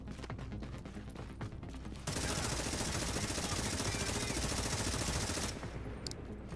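Sustained rapid automatic fire from a Tommy Gun fired from the hip in The Division, loud and dense for about three and a half seconds, with clicks and mechanical handling before and after the burst.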